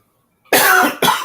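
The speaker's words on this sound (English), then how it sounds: "Just like your cough." A person coughs twice in close succession, a longer harsh burst followed by a shorter one, loud and close, with no talking.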